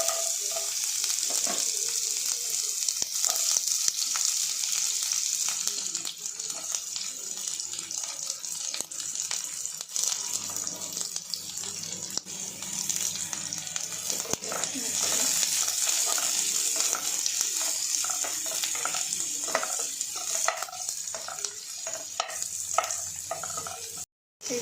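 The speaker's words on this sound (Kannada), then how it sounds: "ಈಗ ಆನಿಯನ್ ಸ್ವಲ್ಪ ಫ್ರೈ ಆಗಿದೆ" Chopped garlic and onion frying in a pan for gobi manchurian, a steady loud sizzle with occasional stirring scrapes throughout, close up, ending abruptly.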